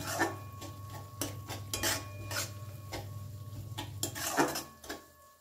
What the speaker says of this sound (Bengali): টক দইটা দেওয়ার পরেও খুব ভালো করে মশলার সাথে মিশিয়ে নেব